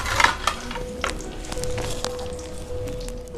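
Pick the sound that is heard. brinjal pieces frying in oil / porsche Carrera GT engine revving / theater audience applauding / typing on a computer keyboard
brinjal pieces frying in oil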